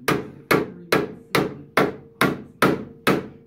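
Eight evenly spaced hammer taps on metal on a 1990 Range Rover two-door, each a sharp, close strike with a short ringing decay, repeating about twice a second with no talking.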